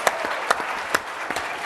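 Audience applause at a film screening and discussion, a fairly faint crowd clapping with several louder individual claps standing out over a steady wash of hands.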